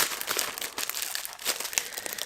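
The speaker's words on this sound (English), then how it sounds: "just unwrap this one." Plastic wrapping crinkles and rustles steadily as a packaged music album is unwrapped, close and continuous for a couple of seconds with no talking.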